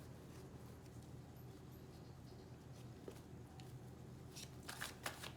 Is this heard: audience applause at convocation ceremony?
no